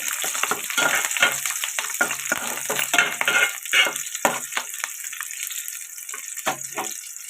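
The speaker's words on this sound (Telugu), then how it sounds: "ఉల్లిపాయలు ఇలా ఫ్రై అవుతాయి కదండి." Chopped onions and curry leaves fry in hot oil in a pan, a close, busy sizzle broken by repeated scraping and stirring strokes, with no voices.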